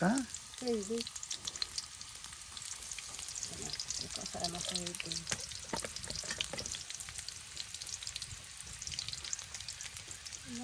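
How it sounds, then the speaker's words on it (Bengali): Onion frying in oil in a pan on a home stove, a continuous crackling sizzle with scattered pops and stirring, while a voice talks faintly now and then underneath. "এই যে এখন চুলাই তেল দেওয়া হচ্ছে পেঁয়াজ"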